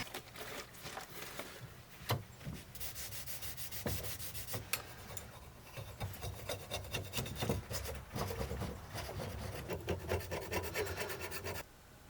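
Sanding by hand scrapes off gummy, rubbery epoxy from a vintage travel trailer handle in close, rhythmic abrasive strokes that speed up toward the end, steady and alone without speech.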